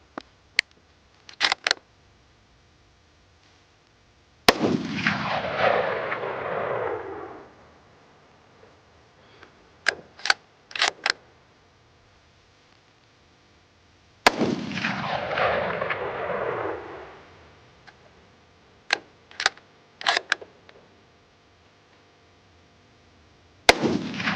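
Two loud, close rifle shots from a Ruger American Gen 2 in .308 firing Federal ammunition, each with a long rolling echo, separated by quiet stretches of clicks from bolt cycling.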